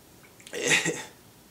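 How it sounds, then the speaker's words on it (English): A single short sneeze, close and moderately loud, a brief burst lasting under a second and followed by quiet. "Real professional sneezing."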